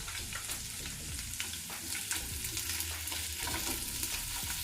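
Potato pieces fry in a kadai over a medium flame, giving a dense, continuous sizzle with quick stirring scrapes throughout, close and fairly loud, with no voices.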